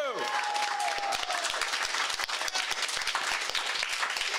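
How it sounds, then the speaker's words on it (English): An audience at a national convention claps loudly for a panel, dense rapid applause filling the whole stretch, with a fading voice and a brief tone at the start beneath it. "Can we give one more round of applause for this incredible and powerful panel?"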